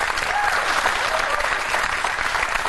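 Studio audience at a taped comedy panel show breaks into steady, dense applause, loud and continuous throughout with no pause.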